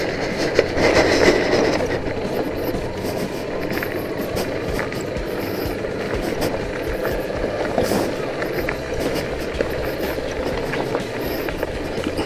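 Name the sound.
train running on railway track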